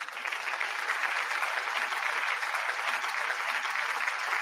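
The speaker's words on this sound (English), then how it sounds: "Let's give her a round of applause, y'all." Steady applause from a small group welcoming a guest into a live stream, dense clapping that holds at an even level throughout, moderately close with no voices on top.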